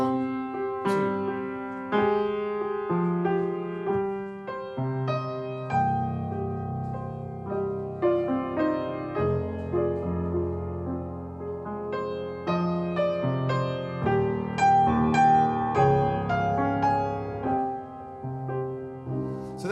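A 3/2 polyrhythm demonstration plays as a steady layered musical pattern, two interlocking pulses of three against two in repeating tonal notes, sustained and moderately loud for about twenty seconds with no talk.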